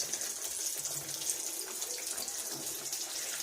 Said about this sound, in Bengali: দেখো কেমন গরম তেলের মধ্যে ফুলকো ফুলকো কচুরি হয়ে যাচ্ছে